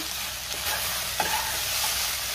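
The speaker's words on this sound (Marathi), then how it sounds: "आता पुन्हा सगळं व्यवस्थित मिक्स करून घेते" Okra (bhindi) stir-fry sizzles in a pan while a spoon scrapes and stirs through it, a steady hiss with a few soft scraping strokes, close and without talk.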